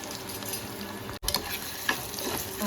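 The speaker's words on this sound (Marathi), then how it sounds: "आता आपण तेलावर हा कांदा छान शिजवून घेऊया." Onion frying in oil in a pot over low heat for a bottle gourd and prawn curry makes a steady crackling sizzle with occasional stirring scrapes, briefly interrupted by a short gap, with no talk.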